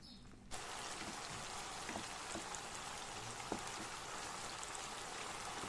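Tomato paste with oil sizzles in a pan while being sautéed for bulgur pilaf, a dense steady crackling hiss with occasional sharper pops, close and continuous after a brief quiet start.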